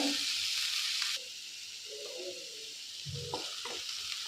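Tomatoes being stirred and sautéed in a pan give a soft hiss of frying with light scraping, a steadier sizzle at first easing off, then a few quiet knocks and clicks of the spoon near the end; no talking.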